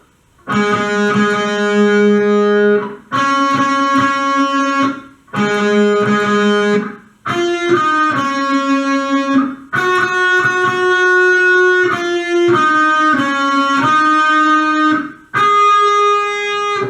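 Electric guitar plays the melody as sustained, slightly distorted notes in phrases of two to three seconds with brief gaps between them, loud and alone.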